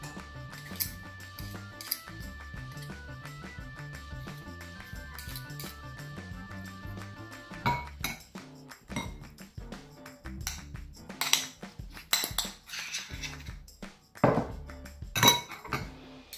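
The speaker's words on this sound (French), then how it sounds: "Et on mélange le beurre et le chocolat ensemble. Alors moi j'ai pris une fourchette" A fork stirs melted chocolate and butter together in a bowl, giving uneven clinks and scrapes against the sides, light at first and then busier and louder, with no talking.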